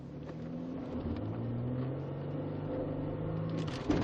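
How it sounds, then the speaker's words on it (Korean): A Hyundai Equus VS380 sedan accelerates on a test drive, its engine note rising in a smooth, steady hum heard from inside the cabin, building gradually over a few seconds with no talking. "한번 엑셀 한번 밟아보도록 할게요."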